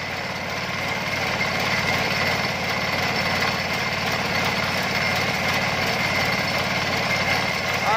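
Sakura 188 diesel tiller forming raised soil beds, the engine running loud and close with a steady rattling chug and vibrating hum that holds level throughout, no speech.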